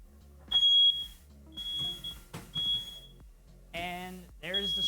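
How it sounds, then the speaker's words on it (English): A shrill smoke alarm beeps repeatedly in short piercing bursts while people talk over it nearby. "And there's the smoke alarm."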